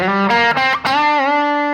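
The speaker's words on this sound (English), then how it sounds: "And then bend it up again, but you only strike it once." A distorted electric guitar note picked once, then bent down and back up with smooth pitch slides, sustaining loudly throughout.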